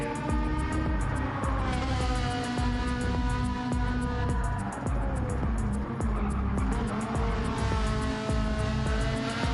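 A red Ferrari GT3 race car in Gran Turismo 7 on Trial Mountain circuit, its engine roaring loud and steady throughout with shifting pitch and brief tire squeal, no talking.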